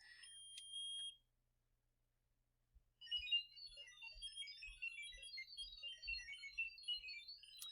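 A synthesizer's pitch is modulated rapidly between low and high, giving a faint burst of warbling tone, a brief pause, then a busy stream of quick random bleeps and chirps with soft low thumps.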